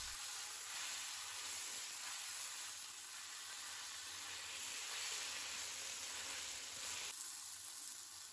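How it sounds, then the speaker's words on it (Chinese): Sweet potato leaves with sauce hit a hot wok over high heat, a steady faint sizzle and hiss of steam lasting several seconds, undisturbed by stirring or speech. "把番薯叶倒入锅中，调好的料汁也倒入锅中，先不要急着翻动，开大火将一面炒至断生"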